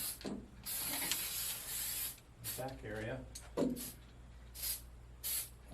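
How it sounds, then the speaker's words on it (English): Several short bursts of aerosol dry lubricant spray hiss on piano action springs, close and loud, alternating with someone talking between them. "Let's spray it on the springs,"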